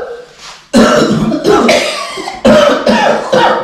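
Several harsh, loud coughs up close from a person with a fish bone stuck in the throat, coming in separate bursts after a softer throat sound at the start.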